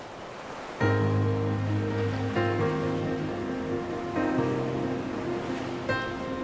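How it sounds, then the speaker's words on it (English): Ocean waves from an environmental sample in the UVI Quadra sound library wash in a steady rolling surf texture beneath sustained synth chords, which change several times while the water noise continues. "or there's all sorts of ocean waves."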